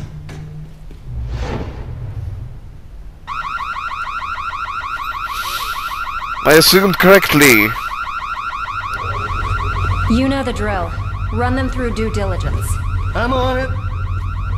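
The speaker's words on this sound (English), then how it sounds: "Someone ping Cassini to shut that fucking alarm off." A car alarm blares in a cutscene from The Secret World video game, a steady, loud, repeating electronic wail that keeps going while voices talk over it.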